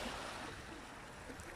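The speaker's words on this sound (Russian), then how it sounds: "и вот так плещутся волны" Sea waves wash and splash steadily on a Greek shore, a soft continuous rush of water with no talking.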